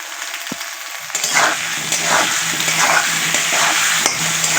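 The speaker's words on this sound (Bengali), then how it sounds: "দিয়ে একটু ভেজে নেব" Potatoes frying with salt and turmeric powder in a pan for a cauliflower, potato and rohu fish dish, a steady close sizzle with crackling bursts after a brief quieter start.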